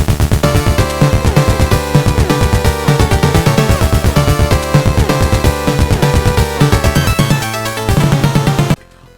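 Japanese Famicom version of Castlevania 3 plays its soundtrack with the extra VRC6 sound channels: dense, busy chiptune music with driving rhythmic bass and layered melody, loud and continuous before cutting off abruptly near the end.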